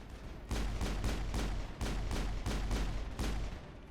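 Pistol fire in the video game Mass Effect sounds as a rapid series of loud, punchy shots, about eight booming reports in close succession, dense and heavy with no talking over them.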